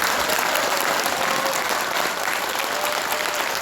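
Audience at a Korean party anniversary event applauding, a dense, steady burst of clapping that fills the whole moment without a break.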